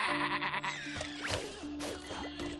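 Sheep bleating in the Skylanders video game, several wavering animal calls overlapping one another against steady game music, close and fairly loud throughout.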